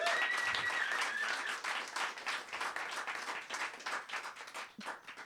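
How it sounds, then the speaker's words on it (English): A songwriters circle audience in Los Angeles applauds songwriter Patricia, a full round of clapping that starts strong and gradually thins out, with faint voices and cheers threaded through it. "Everybody give a huge round of applause to Patricia."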